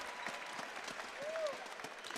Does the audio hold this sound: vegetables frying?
no